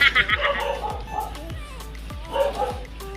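Dogs at a secluded retreat house bark and yip in short repeated bursts, fairly close, while a person talks over them.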